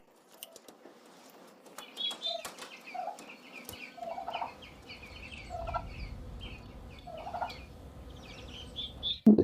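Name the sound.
turkey chicks and broiler chickens in a greenhouse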